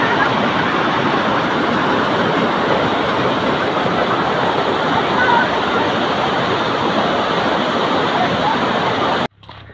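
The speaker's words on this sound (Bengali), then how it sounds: "দেখো ঝর্ণার জল কীভাবে যাচ্ছে আস্তে আস্তে।" Water pours down a waterfall near Ghatsila in a loud, continuous roar close by. It stays even throughout, then cuts off abruptly just before the end.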